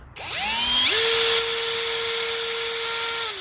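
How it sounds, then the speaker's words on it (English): A nylon brush on a flexible rod spins inside an injector hole of a 2014 Volvo S60 D4 2.0 diesel, giving a close, high-pitched motor whine that rises quickly and then holds steady for a few seconds. "And now you can clean it with that nylon brush."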